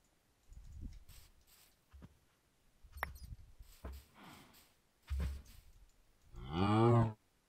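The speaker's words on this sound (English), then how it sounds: "I will kill a cow." A Minecraft cow gives a single loud, low bovine moo close by near the end, following a stretch of faint clicks and thumps from game actions.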